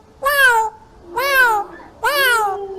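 A child imitates a cat with three drawn-out meows, each clear and close with short gaps between them.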